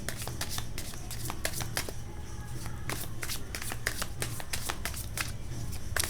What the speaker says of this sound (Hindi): कार्ड्स पे ध्यान दीजिए, शफलिंग पे ध्यान दीजिए